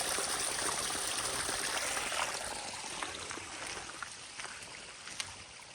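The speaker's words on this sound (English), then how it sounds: "We have got a huge amount of water coming off the hill." A large volume of rainwater pouring off a hillside on rural land after heavy rain, a continuous rushing stream with scattered splashes, loud at first and easing slightly, no talking.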